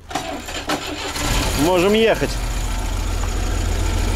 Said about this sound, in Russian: запускайте двигатель